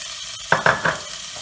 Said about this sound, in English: In a pot, heat some oil, add your finely chopped onion,